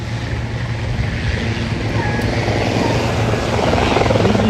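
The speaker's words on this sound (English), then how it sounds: "Usually you can hear the helicopter so loud." Helicopter flying over near a heliport in downtown Manhattan, New York City, heard as a steady, fairly loud rotor and engine drone that holds evenly throughout, slightly swelling toward the end, with no talk.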